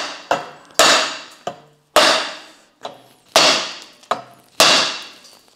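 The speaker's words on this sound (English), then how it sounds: "So I'm gonna go ahead and just smack this with a hammer" Sharp metallic hammer blows strike damaged metal threads, seven impacts in an irregular rhythm, each a loud crack with a short ringing decay, close and without talk.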